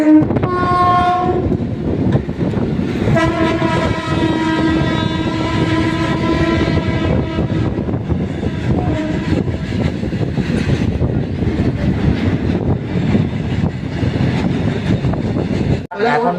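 A Kalyani to Budge Budge local train runs along the line, rumbling loudly and continuously with clattering wheels, its horn sounding in long blasts near the start and again later.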